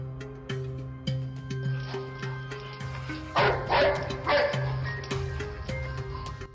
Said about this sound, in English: Many dogs will bark to let you know something's going on